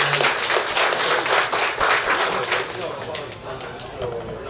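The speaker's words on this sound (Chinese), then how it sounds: "大家鼓掌欢迎" Audience applause at a koi association members' meeting, a dense burst of clapping that swells and then gradually thins out, with some voices mixed in.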